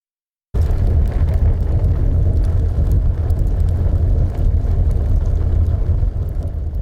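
A creepy wind gust ambience layer with a heavy low rumble, a constant dense roar that starts suddenly after a short silence and holds steady and loud throughout, with no voices.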